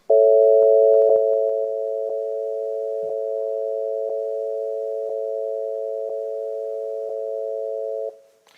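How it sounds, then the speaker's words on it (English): A sustained, steady electronic keyboard chord held for several seconds, alternating equal temperament and pure intervals, with faint periodic pulses, then cut off abruptly. "I play for you a chord alternating in equal temperament and with pure intervals"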